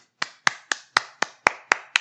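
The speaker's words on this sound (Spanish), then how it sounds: "suenan cornetas y aplausos, panderetas y demás" Eight sharp, evenly spaced claps, about four per second, sounding alone and close, like a single person's sound-effect applause added after congratulations on a podcast episode.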